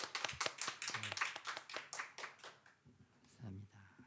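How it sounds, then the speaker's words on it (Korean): A church congregation claps at a Sunday worship service, a run of sharp hand claps over about two and a half seconds that then thins out, with brief talk near the end. "박수 올려드리겠습니다."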